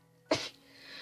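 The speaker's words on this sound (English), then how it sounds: "I'm gonna sneeze, hold on." A single close, sharp human sneeze bursting out of near silence, followed by a faint breathy tail.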